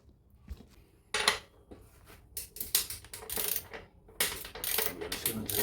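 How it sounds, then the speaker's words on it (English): Metallic clinks, ratcheting and tool clatter while the rear wheel comes off a Yamaha YZ250F motocross bike during chain and sprocket work, in intermittent bursts of close, fairly quiet mechanical noise. "Now let's take off the rear wheel and change the rear sprocket."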